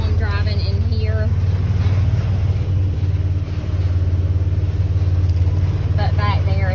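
A vehicle drives across a rural property in Fargo, Georgia, giving off a steady low engine rumble throughout, while a person talks over it.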